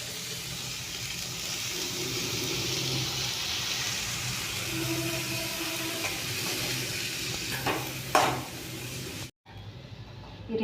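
Beans just added to a tempering of cooked onions sizzle steadily in a pan while being stirred and mixed, a continuous close hiss with a few scraping knocks near the end before a brief cut.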